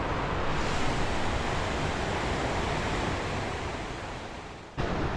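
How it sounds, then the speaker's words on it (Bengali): A mountain river at Rishikhola rushes over stones in a steady, broadband roar that stays loud and continuous, dipping slightly near the end with a brief break before resuming. "আর তোমরা নদীর আওয়াজটা শুনতে পাচ্ছ আশা করি"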